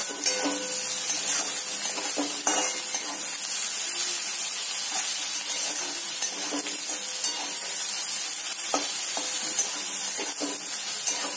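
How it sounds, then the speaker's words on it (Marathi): Tomatoes sautéing in hot oil for a desi-style pasta, a continuous loud sizzle broken by repeated scraping strokes of a stirring spoon against the pan, no talk. "छान असं विरघळेपर्यंत आपण याला तेलामध्ये परतवून घेऊया"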